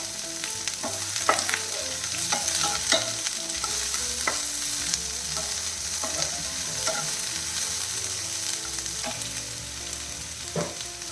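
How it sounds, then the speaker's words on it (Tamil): Bitter gourd frying in a pan while being stirred, with a steady sizzle of oil and repeated scraping clicks of the spoon against the pan, close and continuous with no talking. "ஒரு நிமிஷம் இந்த மாதிரி கிளறிப்போம்"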